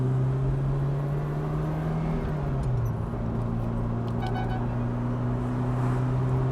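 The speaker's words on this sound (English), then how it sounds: "You can hear the motor behind you." A 1985 Ferrari 308 GTS engine drones steadily from behind the cabin, its low hum shifting pitch slightly as it drives with constant road noise.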